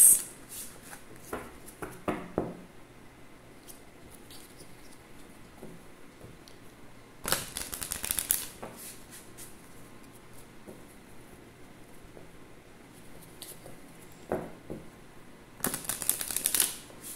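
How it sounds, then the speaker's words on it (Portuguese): Tarot cards being shuffled and drawn, in short crisp riffling bursts at the start, middle and end, separated by quieter stretches of faint handling. "vamos tirar algumas cartas"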